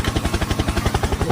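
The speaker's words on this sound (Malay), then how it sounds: "Helikopter." A helicopter passes overhead with a fast, even thumping of rotor blades. The beat is steady and moderately loud throughout a short stretch.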